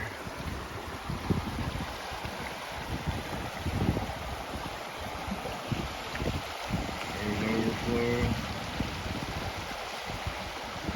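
Steady broadband rush of a flooded creek roaring nearby, overflowing its banks, with wind buffeting the microphone throughout.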